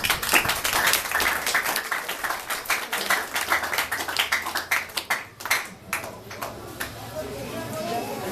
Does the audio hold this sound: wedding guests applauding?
yes